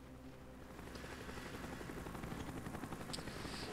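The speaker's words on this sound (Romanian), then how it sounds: "Doamne, că trec elicopterele astea pe aici" Helicopters pass overhead in Call of Duty Black Ops as a steady, faint rotor thrum, with a few distant gunshot-like pops in the game background.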